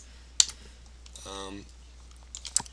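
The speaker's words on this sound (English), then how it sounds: "Just use the delete key on your keyboard" A few sharp computer keyboard key presses click at the start and end, close and crisp, with a brief voice sounding in between.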